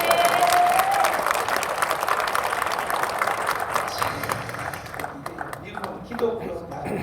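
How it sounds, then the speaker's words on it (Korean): An audience in a large gymnasium bursts into loud, full applause that gradually thins and fades toward the end, with crowd murmur and a voice mixed in beneath the clapping. "박수 쳐요."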